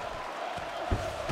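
A crowd cheers and shouts at a UFC fight between Jessica Andrade and Cynthia Calvillo, a low steady roar from the arena with a sharper burst near the end, faint and distant.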